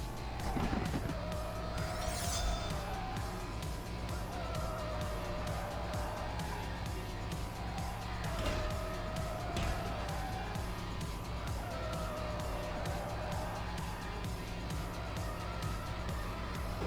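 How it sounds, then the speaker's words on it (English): A Nissan 180SX drifting in the video game Need For Speed No Limits, with a steady loud engine drone and repeated tire squeals rising and falling throughout. "So I'm drifting just to get money."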